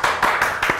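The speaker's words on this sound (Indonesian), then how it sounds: "Ya, tepuk tangan dulu" Studio audience clapping on an Indonesian talk show, a few hands beating out distinct rhythmic claps about every fifth of a second, close and fairly loud.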